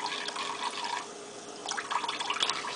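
Water from a sink tap runs and splashes for a child's hand washing, a soft, continuous trickling that dips briefly midway and then picks up again, close and fairly quiet.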